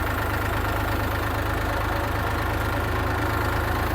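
An engine on farm equipment used in sugarcane bud preparation runs in low gear, giving off a steady, close mechanical rumble with a rapid knocking pulse and no voices.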